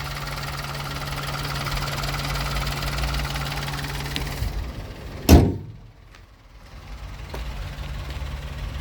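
A small 1.2-litre petrol engine in a 2021 Peugeot 301 hums steadily at idle for several seconds, then a loud door thump cuts in and the engine sound drops away to near quiet.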